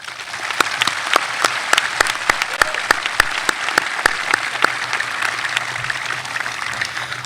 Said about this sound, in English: Please join me in giving them a nice round of applause